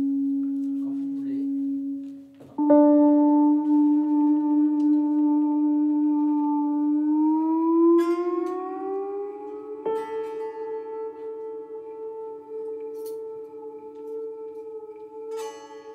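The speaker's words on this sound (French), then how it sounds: "nous sommes toujours au début de cette expérimentation avec les sirènes" Sirens played in an experimental musical work sound sustained tones that hold steady, then slowly glide upward in pitch, with a sharp attack entering early and further layered tones joining later, loud and clean against silence.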